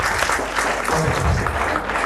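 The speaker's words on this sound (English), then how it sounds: "I request all of you to give a big hand to Chandra sir" An audience at a live event claps for Chandra sir in a short burst of dense, fairly close applause, with some crowd murmur mixed in.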